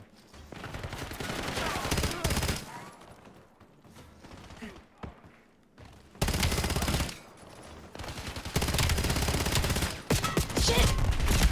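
Gunfire from the video game Black Ops 7, bursts of rapid automatic shots and dense fusillades in dense clusters with quieter gaps between, loud and close, with brief talk from a player.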